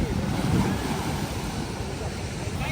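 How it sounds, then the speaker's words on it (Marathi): Sea waves break on a Konkan beach in a continuous rushing roar, close and fairly loud, with wind buffeting the microphone. "ही लाट आली आहे. सुंदर असा बीच."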